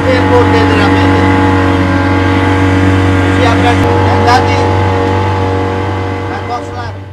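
A loud, steady boat motor drones throughout with a constant low hum as the boat turns on an Amazon river, gradually easing toward the end, with no voices heard.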